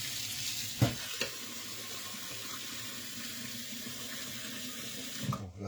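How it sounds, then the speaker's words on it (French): Boiling water churns and hisses in a pot while confit duck legs cook, a dense, steady bubbling roar with a couple of brief knocks near the start and a clatter at the end. "là c'est l'eau bouillante"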